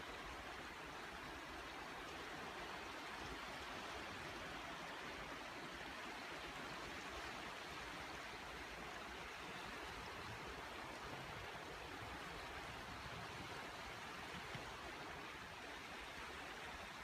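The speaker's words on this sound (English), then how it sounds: "Stopped at a nice little stream for a break." A small woodland stream on a muddy path after a storm, flowing steadily with a continuous close broadband rush and babble, no voices or other sounds over it.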